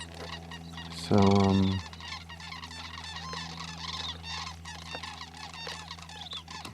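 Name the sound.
cranes calling in a field in southern Arizona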